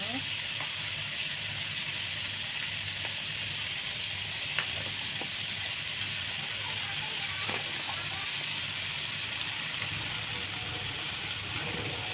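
Chicken for mie ayam frying in a pan, a constant close hissing sizzle holding steady throughout, with occasional faint clicks and stirring taps over it.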